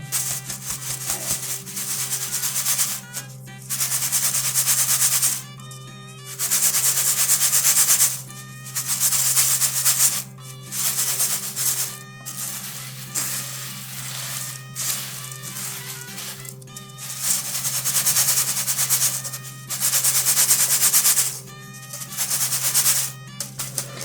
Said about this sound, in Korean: 포화를 체에 쳐서 부드럽게 만들어 주시면